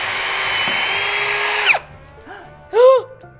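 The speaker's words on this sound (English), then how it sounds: "what we're gonna do is drill into the barrel with a drill" A power drill bores into a bourbon whiskey barrel, a loud steady whine that cuts off after about two seconds, followed by quieter squeaks and scraping.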